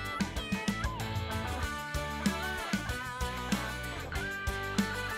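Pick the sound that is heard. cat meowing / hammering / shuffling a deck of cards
cat meowing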